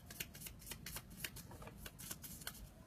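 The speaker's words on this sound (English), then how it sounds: "Oh yeah, let's shuffle it" A deck of cards being shuffled up close, with quick riffling bursts of crisp flicking and snapping, repeated several times, quiet and without talking.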